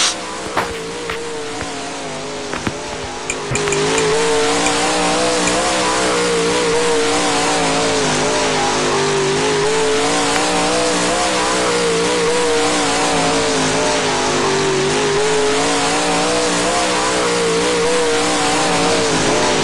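A dirt late model race car engine in a racing video game drones loud and steady from an outside view, its revving pitch rising and falling continuously with no voices.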